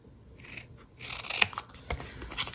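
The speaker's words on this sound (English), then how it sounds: "Now I'm going to take my scissors, cut up to that point." Scissors cut a paper box while making a Christmas Yeti box craft, giving a few short crisp snips close by, quiet and without talk.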